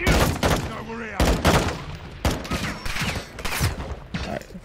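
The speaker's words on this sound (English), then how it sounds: "Where are they shooting from?" Bursts of gunfire in Call of Duty: Modern Warfare II, with sharp shots and rattling volleys in irregular clusters, some close and loud, mixed with game sounds.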